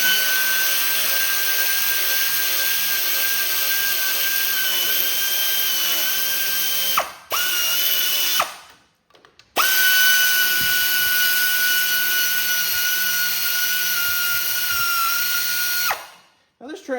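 A power tool tightens bolts on a Cub Cadet 1282 Hydro transmission with a close, loud, steady whirring. The run breaks off briefly twice and then winds down near the end.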